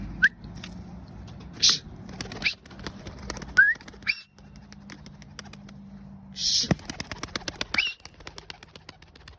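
A young blue-colored, yellow-eyed male Ay Yıldız pigeon takes off with bursts of close wing flapping, followed later by a rapid run of wing claps amid faint background noise.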